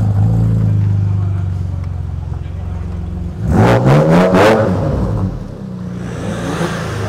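A car fitted with a Clio shell and a Sparco steering wheel idles with a low rumble, then revs hard in several quick rising bursts before settling back to idle.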